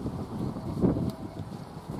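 Wind blusters across an outdoor allotment plot, a steady broadband rush buffeting the microphone with a stronger gust midway, no voices present.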